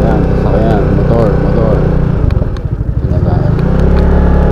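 A motorcycle engine rumbles loudly close by, its pitch shifting as it moves past, with a voice talking over it.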